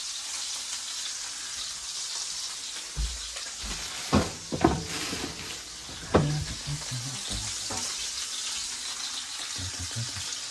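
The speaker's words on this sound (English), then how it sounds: "I'm just gonna let it cook on the highest heat setting I'm comfortable with" A big flat piece of steak frying in a pan on high heat, a soft steady sizzle with a few sharp clatters and bumps partway through, no talking.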